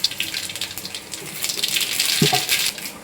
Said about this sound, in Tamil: எண்ணெய் காஞ்சிருச்சு, கடுகு போட்டுக்கலாம்.